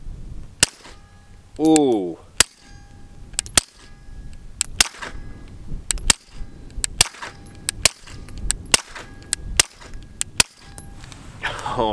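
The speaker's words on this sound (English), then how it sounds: "Now I'm gonna risk it and completely take my ear pro out again, shooting 115 grain." Suppressed 9mm pistol shots using 115 grain ammunition through a long modular silencer fire in a quick irregular series of sharp, close cracks, with a brief exclamation from the shooter partway through.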